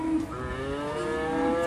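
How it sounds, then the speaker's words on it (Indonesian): A Simmental cow gives a long, drawn-out moo that carries steadily for nearly two seconds, heard fairly close with no talk over it. "sapi simental"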